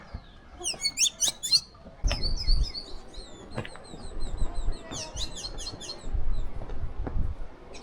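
Birds in lush Colombian countryside give bursts of quick, high chirps and trills in several clusters, with soft wing flutters and rustling nearby and faint background movement.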